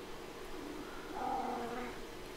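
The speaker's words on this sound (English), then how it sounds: "There's the cat." A cat meows once in a drawn-out, wavering call midway through, set against quiet outdoor garden background noise, with no talking.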